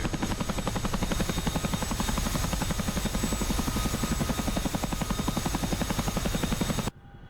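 A CH-47F Chinook tandem-rotor helicopter in the DCS flight simulator gives a loud, steady, rapid rotor chop with a dense engine roar for about seven seconds, then cuts off abruptly to near silence.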